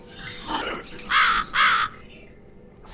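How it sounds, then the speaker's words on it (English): A crow caws in The Cat Lady video game, giving two loud harsh caws in quick succession near the middle, preceded by a softer call and followed by quiet game ambience. "There's a crow."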